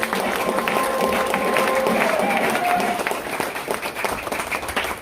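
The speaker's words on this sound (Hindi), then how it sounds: "एक बार जोरदार तालियां मैं चाहूंगा आपके थ्रू हामिद भाई के लिए" An audience at a business success training seminar applauds in a dense, sustained wash of clapping that tapers slightly toward the end, with faint voices mixed in.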